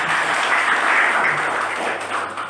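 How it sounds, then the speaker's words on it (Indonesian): A church congregation at a Thursday worship service applauds steadily, a continuous mid-level wash of clapping that holds throughout with no speech over it. "Kalau hebat, berikan tepuk tangan bagi dia."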